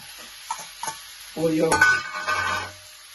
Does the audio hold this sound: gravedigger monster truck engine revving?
no